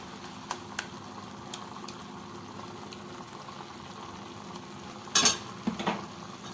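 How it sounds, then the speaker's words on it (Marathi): Fenugreek curry with ground peanut paste being sautéed in a pan, a steady low sizzle with occasional spoon scrapes and a brief louder clatter near the end, close by and without speech. "चांगलं परतून घेते मी याला"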